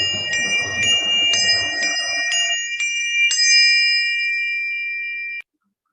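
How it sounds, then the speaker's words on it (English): Three handbells ringing changes in rounds, struck one after another in a steady even rhythm, bright and close, with the last strokes left to ring on before cutting off, over faint background noise early on. "So this is what it would sound like on handbells."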